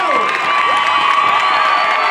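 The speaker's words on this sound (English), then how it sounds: "Give a round of applause for Joe!" A protest crowd in Clifton against police brutality cheers and applauds loudly for a man, with whoops, shouts and a few raised voices layered over continuous clapping, close and intense.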